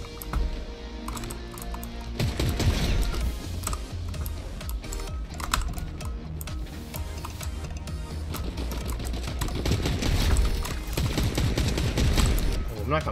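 Rapid SMG fire in Fortnite, loud bursts of dense rattling shots running through most of the stretch, mixed with other game effects and with a voice speaking at times.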